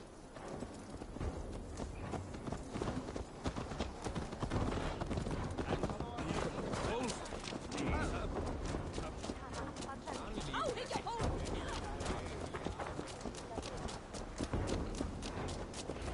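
Horse hooves in Assassin's Creed Valhalla: a steady clip-clop of hooves on ground, repeating at an even gait throughout, with game voices talking over it and a faint whinny at one point.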